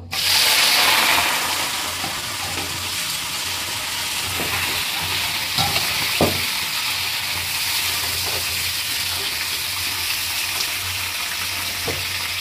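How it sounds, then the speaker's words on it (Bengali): Cauliflower florets hit hot oil with a loud burst of sizzling, then settle into a steady, bright, close frying hiss with occasional clinks and spatula scrapes; no voices are heard. "এই অয়েলেই আমি কপিগুলো ভেজে নেব।"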